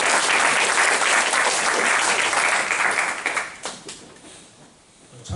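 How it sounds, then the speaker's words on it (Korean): A church congregation applauds together at a mission worship service, broad steady clapping that holds for several seconds and then thins out and fades toward the end. "미리 한번 박수 한번 쳐줍시다"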